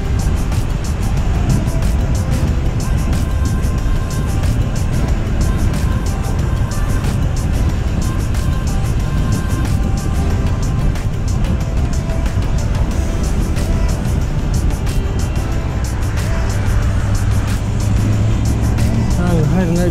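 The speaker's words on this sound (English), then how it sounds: "Seems to be quite a lot of traffic around today." Road traffic streams past a cyclist on a Giant Defy road bike, a continuous loud rush of passing cars and trucks with wind noise throughout.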